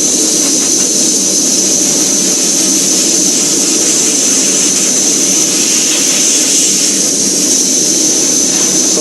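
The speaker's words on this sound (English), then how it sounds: "I use dry nitrogen to blow all the water droplets off of the surface." Dry nitrogen gun blowing water droplets off a wafer surface, a constant loud airy hiss with a high whistle running throughout, very close.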